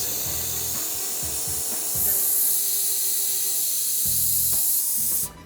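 A steady airy hiss of a spray gun spraying cocoa butter into bonbon molds runs throughout, swelling slightly midway, with a few low thumps and faint background voices underneath, cutting off near the end.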